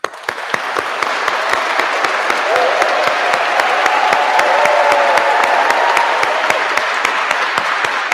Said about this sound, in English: Your applause was like the sound of a rushing wind.